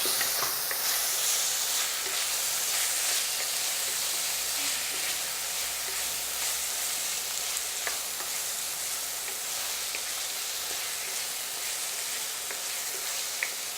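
Curry leaves sizzling in hot tempering oil with tomatoes for Rajasthani tadka matar dal, a steady moderate frying hiss with faint crackles throughout and no talking.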